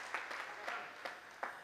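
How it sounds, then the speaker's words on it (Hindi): Faint applause from a crowd at a patriotic poetry evening in Dewas, with soft scattered claps and a few sharper hits rising from a low, distant murmur. "जोरदार तालियां"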